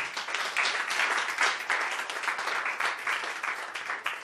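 A church congregation applauds Jesus with dense, sustained clapping from many hands at a fairly even, lively level, with a faint murmur of voices under it.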